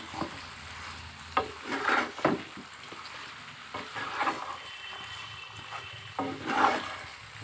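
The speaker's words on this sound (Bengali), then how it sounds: "কিছুটা সময় লবণ দিয়ে মাংসগুলোকে নেড়ে" Desi chicken meat being stirred with salt in a pan, a soft sizzle under several scraping, clattering stir strokes that come in irregular bursts.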